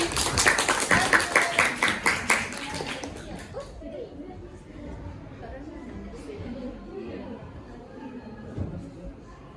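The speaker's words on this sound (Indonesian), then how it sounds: "Oke, tepuk tangan." Students in a vocational high school classroom give a short round of clapping, loud and close for about two and a half seconds, then voices chatter quietly in the room.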